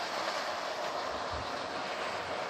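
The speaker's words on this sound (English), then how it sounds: "I think one of these carriages are a bit dirty, so it makes it a bit of a struggle up the hill" A model train set runs along its track with a steady rumbling, clickety hum, slightly laboured as it climbs a hill with a dirty carriage, heard up close and alone.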